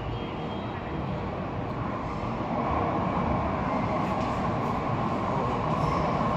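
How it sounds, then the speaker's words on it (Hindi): An eight-coach Mumbai Metro Line 3 train rolls slowly into an underground station, a steady low rumble and wheel roar that builds slightly as it approaches, with a faint high whine in the background. "ये अंडरग्राउंड में ट्रेन की पहली एंट्री हो रही है, देख सकते हो ये यहाँ से ट्रेन स्टार्ट हो रही है आना, काफ़ी स्लो आ रही है यार"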